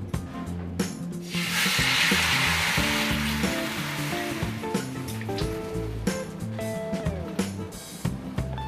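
Ghee sizzles on a hot tawa as a fasting-style bhajani thalipeeth cooks, with a loud burst of frying in the first seconds that settles into a softer crackle. Scraping and clinking sounds of cooking run alongside.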